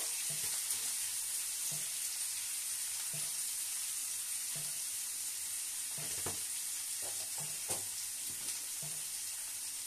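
Potato and papaya pieces fry in a pan with turmeric and salt, a steady loud sizzle running throughout while a spatula scrapes and stirs in soft, irregular knocks; no voices.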